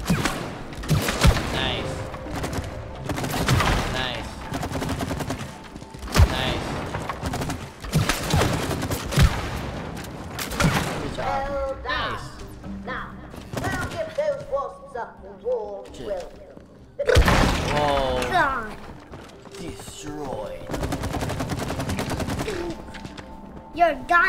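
Gunfire at targets on a shooting range in the video game It Takes Two, with bursts of rapid shots and thuds recurring throughout while two people talk over them.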